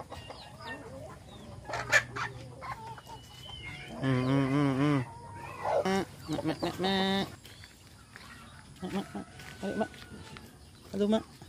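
Chickens cluck and squawk nearby in uneven bursts, with a person talking among them.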